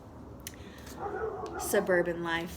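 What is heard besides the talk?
dog barking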